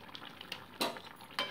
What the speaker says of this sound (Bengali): খুন্তির সাহায্যে গরম মশলাটাও ঝোলের মধ্যে ভালো করে মিশিয়ে নিচ্ছি আমি।